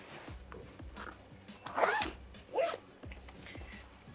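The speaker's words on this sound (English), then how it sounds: "and zip her all up." The zip on a Darche Flat Pack Chair carry bag being pulled closed, two quick close rasping zipper strokes with soft handling rustles and taps around them.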